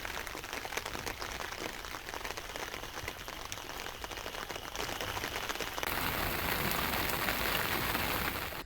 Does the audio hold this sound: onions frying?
no